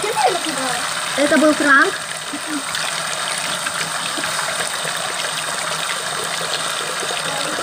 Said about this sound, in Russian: Первым делом отмою руку.